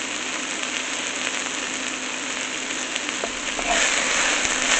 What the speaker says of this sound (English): You can see there's a nice little sizzle going on here.